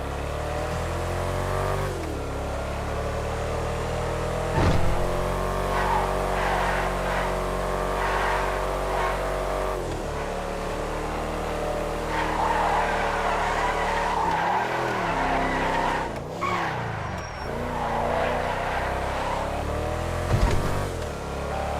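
A 4-door SUV in a racing video game drives with a steady engine drone, rising revs and intermittent tire squeals and skids, with no voices.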